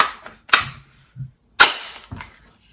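A Kel-Tec Sub 2000 rifle's charging handle racked, giving sharp metallic clacks: a pair of snaps, a soft slide, then another close pair of sharp clicks, loud and near against silence.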